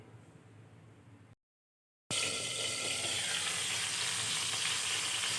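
Ripe medium tomatoes cook in oil in a pan, a dense steady sizzle that cuts out briefly, then returns loud and continuous, close by with no talking.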